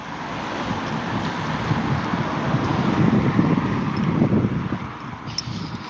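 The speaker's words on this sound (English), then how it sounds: "753 goes through here, you can see the bus going through." A route 753 bus rolls along a street in Sudbury, a broad rumble of traffic that swells to a peak midway and then fades. Gusts buffet the microphone throughout.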